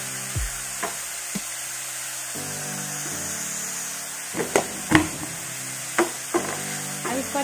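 Vegetables fry in a pressure cooker as salt is stirred in for a stovetop pizza, with a steady sizzle underneath and a series of sharp scrapes and knocks of the spoon against the pot, growing busier toward the end.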